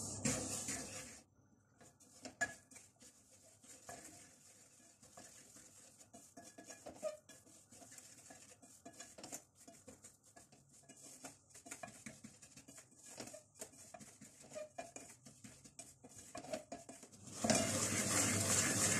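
Semolina roasting in ghee over a low flame, with quiet scattered scraping and stirring in a pan, light clinks of a utensil, and a louder sizzle swelling at the end.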